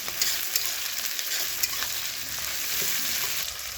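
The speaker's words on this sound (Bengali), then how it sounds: "ভালো করে ভাজতে থাকবো।" Steady sizzle of prawns, onions and slit green chillies frying in oil, with a few stirring clinks and scrapes, loud and close, no voices.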